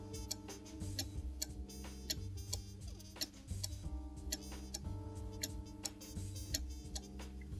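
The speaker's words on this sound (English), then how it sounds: "please carefully adjust the clock's position on the wall until the tick-tock of the pendulum becomes regular" A cuckoo clock's pendulum ticks in a steady, even rhythm as it hangs on a wall, the regular tick-tock close and clear over a dense mechanical background with no voices.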